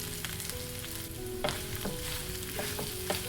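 Mashed boiled potatoes being stirred and mixed in a frying pan, a soft continuous sizzle with several scraping and tapping strokes of a utensil against the pan, close by and with no voices.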